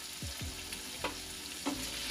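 Potatoes and dolly frying in a pan for a mustard gourd prawn curry, a faint steady sizzle with a few soft stirring scrapes and no talking.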